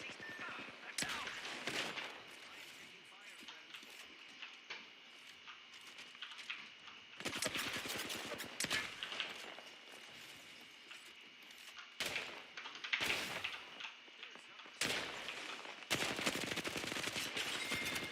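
Video game gunfire during a squad fight in Octane mode, with repeated bursts of automatic fire and single shots, loud and close, in clusters with short lulls, under game radio voice callouts.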